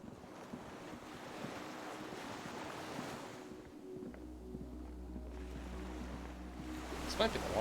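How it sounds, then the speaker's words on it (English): Waves lap by the dock where a skiff sways in the video game Disco Elysium, a continuous wash of surf and wind, joined halfway through by a low steady hum. "The skiff is swaying on the waves by the dock."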